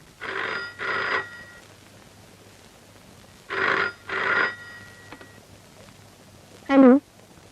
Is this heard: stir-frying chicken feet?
no